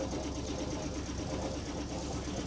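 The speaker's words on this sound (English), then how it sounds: "Engine's running well, water pump held together." A sailboat's small engine runs steadily after docking, a low, even mechanical chugging hum that holds constant and fairly faint throughout, with no talk.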